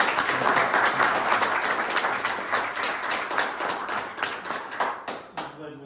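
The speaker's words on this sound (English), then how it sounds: "I think everybody owes you a round of applause and a great thank you" An audience at a township committee meeting breaks into sustained applause, dense clapping that stays strong and then thins out and fades near the end.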